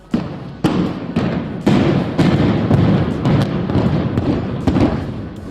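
Building implosion demolition blasts: a run of loud, rapid booms and thuds, one after another for several seconds, each with a hard onset over a sustained rumbling roar, without talk.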